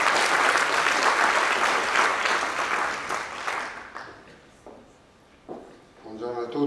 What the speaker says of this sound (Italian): Un applauso per farlo avviare da voi